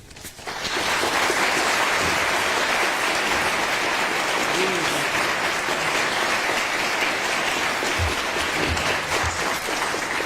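Sustained applause from an audience at Columbia University in New York as Nikol Pashinyan steps up to the podium, steady and dense for about ten seconds.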